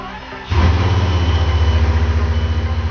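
A car engine cranks and catches, settling into a loud, close, throbbing idle that continues steadily with no talk.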